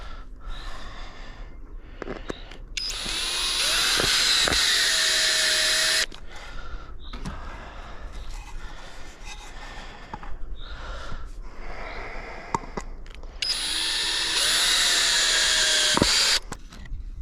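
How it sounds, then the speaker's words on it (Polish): A drill drives a screw into wooden floorboards while laying the floor of a garden storage cabinet: two sustained, loud whirring bursts, separated by quieter stretches of handling noise and breathing. "złapię sobie tu wkręt od razu"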